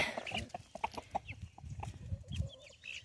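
Young chickens in a backyard coop cluck and chatter in short, irregular calls close by, with soft scratching and shuffling noises underneath.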